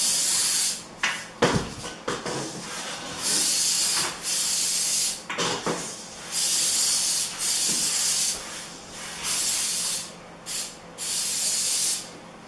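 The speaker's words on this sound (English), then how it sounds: "Spray the inside lip of the corner bead," 3M Super 77 multi-purpose adhesive sprays onto the inside lip of a drywall corner bead in a series of sharp, close hissing bursts of varying length, separated by short pauses and light handling noises.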